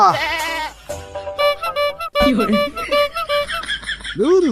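A goat bleats several times in quick succession, loud and close, with wavering cries that rise and fall, and the final cry swoops sharply.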